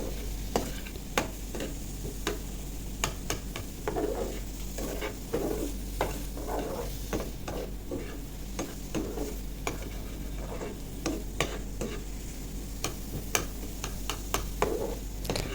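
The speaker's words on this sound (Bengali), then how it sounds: "তো এইভাবে আমি ডিমটা ভালো করে ভেজে নিয়েছি" An egg frying in water in a pan hisses with a steady low sizzle, close and continuous, broken by light ticks and scrapes of a utensil at irregular intervals throughout.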